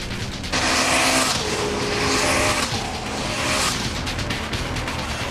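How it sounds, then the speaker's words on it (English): A 1998 Honda Civic Type R race car driving fast, its engine roaring loudly and swelling as it passes close, with a second surge of revving engine noise following, no voices. "The Civic car led the race and won the battle."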